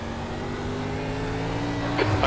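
Sampsoid TNT RC race car running at Daytona, a steady high-pitched engine whine that rises slightly as the car accelerates, with a brief squeal near the end, no talking.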